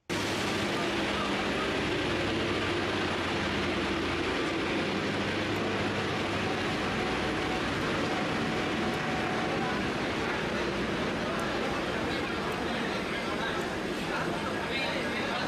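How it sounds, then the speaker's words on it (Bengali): A train pulls into a station at Barrackpore with a continuous, broad rumble of wheels and rolling cars, heard steadily at moderate level for the whole stretch amid general platform ambience. "ট্রেন একদম রাইট টাইমে ঢুকে গিয়েছে"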